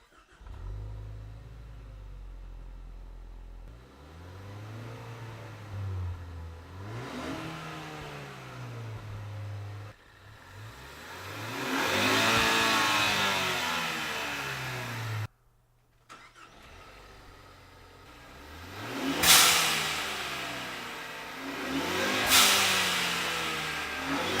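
A car engine without a blow-off valve cranks and catches, then settles into an idle with a few rising revs, close and fairly loud, with no talking.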